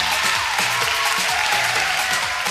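A crowd claps for a singer being introduced on a Lucknow talent stage show, a steady, moderately loud wash of applause with a faint musical tone underneath.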